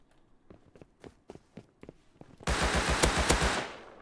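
A burst of rapid gunfire in the video game Rust erupts after a series of scattered footsteps and thuds, loud and close, then trails off.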